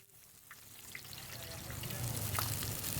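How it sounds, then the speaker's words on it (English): Food fries in hot oil with a rising sizzle that starts faint and builds to a steady crackling hiss, with faint pops scattered through it and no speech over it. "Okay, oh, sizzling, crispy."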